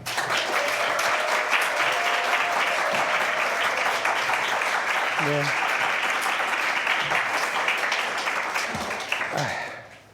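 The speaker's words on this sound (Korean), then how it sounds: "목사님 나오실 때 큰 박수로 환영하시겠습니다" Church congregation applauding at a youth retreat evening service to welcome a pastor to the stage, steady dense clapping filling the room for about ten seconds before fading out.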